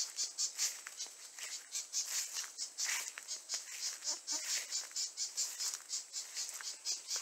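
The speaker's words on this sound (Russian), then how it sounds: "Какая-то птичка такая шумная здесь." A small bird chatters and trills busily and steadily, fairly close, over a background of insect-like buzzing.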